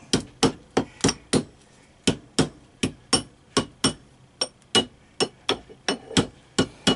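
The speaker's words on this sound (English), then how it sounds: "the outside is going to go on top of the ring mandrel, and there will be a tapping process. Now, let me just grab my mallet." A mallet taps a coin on a steel ring mandrel during coin ring making, giving a steady series of sharp, close metallic strikes, about three per second, each with a brief bright ring and no talking.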